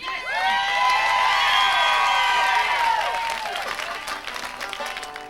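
An audience at a Lewis Family country and bluegrass stage show gives Travis Lewis a hand: a full, steady wash of clapping with rising whoops and cheers, fading slightly toward the end.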